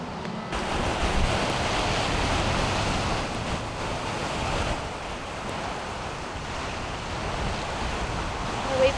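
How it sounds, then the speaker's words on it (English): Pacific ocean waves break and wash onto a beach in Baja, a continuous loud surf roar mixed with buffeting wind noise on the microphone, swelling slightly at the end. "I'll wait for a wave."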